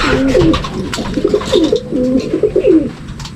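Racing pigeons coo in a steady, close chorus of low repeated calls, with faint scattered rustles that may be wing flaps; no talk.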